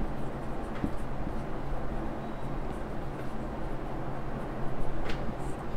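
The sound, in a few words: writing out text while teaching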